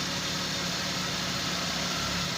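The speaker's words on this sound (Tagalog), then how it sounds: "makina umandar na, may idle na" A car engine idles after a hard start, a steady, even rumble that stays level and close for the whole clip with no talking over it.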